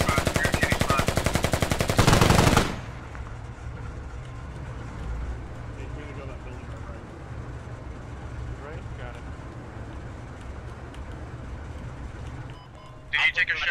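A loud, rapid burst of automatic gunfire in the military shooter game Squad lasts about two and a half seconds, then gives way to quieter battlefield ambience while players talk over it.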